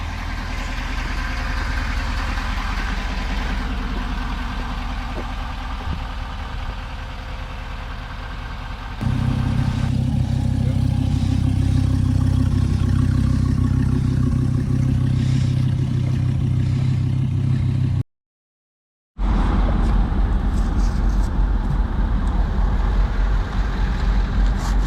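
A transport truck hauling a Mercedes-Benz and a Dodge Viper idles steadily with a low, constant engine rumble, then grows louder as it pulls away, with a brief silent gap before the drone resumes.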